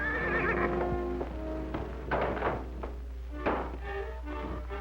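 A pinto stallion gives a loud, wavering neigh, then his hooves thud and clop irregularly on the ground in several heavy steps, with a low steady hum underneath.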